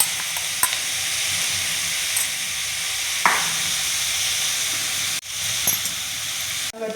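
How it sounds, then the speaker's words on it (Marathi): A dry Maharashtrian bean-pod vegetable dish of val or ghevda beans sizzles steadily in a pan as crushed peanuts go in, with a few sharp stirring scrapes and clinks rising above the constant frying hiss. "आता हे शेंगदाणे कूट असं टाकून घ्यायचं."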